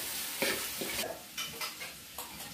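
Soaked potatoes go into a pan of sizzling, oil-releasing chicken mince for a Bengali alur dom, with a steady fry hiss and a few close stirring scrapes and clinks.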